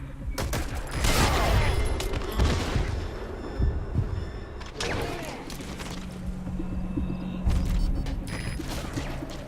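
Gunfire in Metal Gear Solid V: The Phantom Pain, several loud close bursts of shots with rattling mechanical clatter over a rumbling battlefield backdrop, with gaps between volleys.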